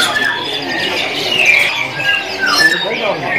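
A canary squawks and chirps in short, bright bursts, close by at a bird shop, with voices talking over it.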